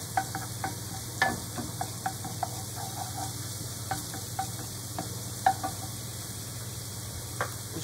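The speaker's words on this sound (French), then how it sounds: "Je remue le tout." Food sizzling in a pan as it is stirred, a faint, steady sizzle beneath a low hum, broken by scattered soft clicks and scrapes from the spoon, no voices.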